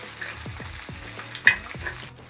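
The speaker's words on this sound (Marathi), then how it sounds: "आलं लसूण परतून झालं, आता मी यामध्ये मिरच्या घालत आहे।" Green chillies fry in a pan with ginger and garlic, a soft continuous sizzle broken by regular scraping stirs and one sharper clink, close and alone without voices.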